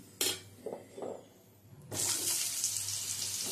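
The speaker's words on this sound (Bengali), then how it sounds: "এখন এই তেলের মধ্যে দিয়ে দেবো আমি কেটে নেওয়া কুমড়োগুলো।" Cut pumpkin pieces drop into hot oil with a few soft clatters, then a loud, steady hiss and sizzle of frying takes over and continues up close.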